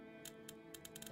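Computer keyboard keys click several times in a quick, faint, uneven patter during a Far Cry 5 co-op session, over a low hum.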